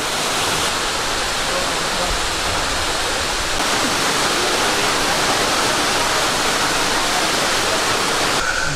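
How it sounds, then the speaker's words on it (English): Raven Cliff Falls, a waterfall in Georgia, pours in a loud, unbroken rush of white noise that holds steady throughout, close by and with no voices over it. "make sure you get to this waterfall because it's an awesome view"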